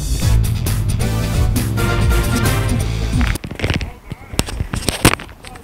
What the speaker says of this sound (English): Oh, this is Usopp weapon.